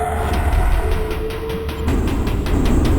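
A train in an indie video game rumbles along with a steady, rhythmic clacking of wheels over rail joints, loud and close, while a thin tone whines above it and no one speaks.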